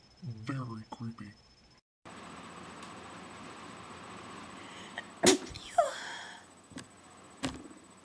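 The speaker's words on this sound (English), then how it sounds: "I have a weird sneeze" A man's loud, odd-sounding sneeze erupts midway after he talks briefly, followed by gasping breaths and a couple of sharp sniffs over a steady fan-like hum.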